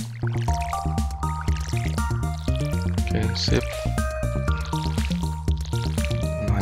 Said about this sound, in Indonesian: Siram-siram, menyiram dulu